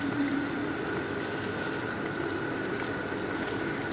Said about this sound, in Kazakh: Сорпамыз қайнап жатыр.